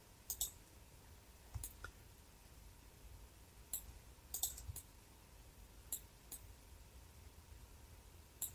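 Sparse computer mouse clicks, single and in quick pairs, scattered irregularly across a quiet room while sky presets are browsed in Marmoset Toolbag rendering software; faint, close and unaccompanied by talk.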